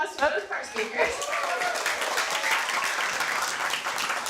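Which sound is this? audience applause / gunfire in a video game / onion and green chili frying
audience applause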